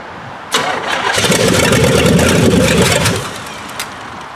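A 400 small block engine with fuel pump trouble cranks and catches, roaring loud and close for about two and a half seconds before dying away, with a small knock after.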